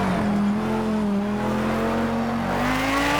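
A race car in Project CARS 2 drives a lap, its engine a loud, continuous whine that rises steadily in pitch as it accelerates, with no talking over it.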